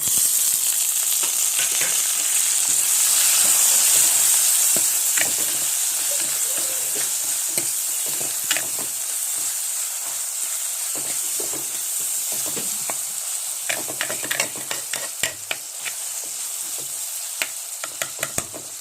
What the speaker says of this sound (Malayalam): നല്ലപോലെ വഴന്ന് വരണം തക്കാളി കഷ്ണം കാണാൻ പാടില്ല അതുപോലെ വഴന്ന് വരണം തക്കാളി